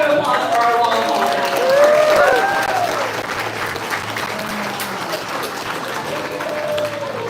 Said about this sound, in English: All right, round of applause for our long haul.